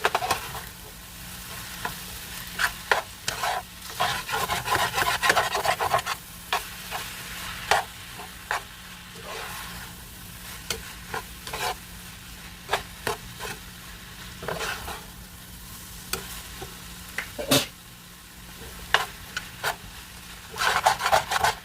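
Ground pork fries in a hot pan, its soft steady sizzle broken repeatedly by scraping and clattering as a utensil stirs the meat, with no voices.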